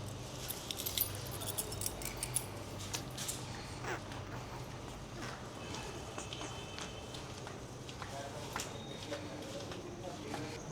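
Keys to a scooter jangle in brief metallic bursts as they are handed over, fairly close but quiet, amid a person talking and faint outdoor background noise.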